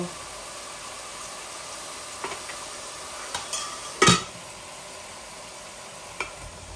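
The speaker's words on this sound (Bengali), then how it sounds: "এই পেঁয়াজগুলা ভাজা ভাজা হোক, তারপর আমি চিকেনটা ঢেলে দিব।" Onions frying in a pan, before chicken is added, make a soft, steady sizzle, punctuated by a few sharp clicks and scrapes of a spoon against the pan.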